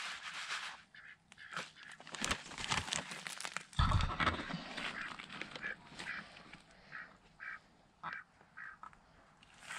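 Female ducks quack repeatedly at close range in a farmyard, short nasal calls coming in irregular bursts, mixed with rustling and crinkling sounds.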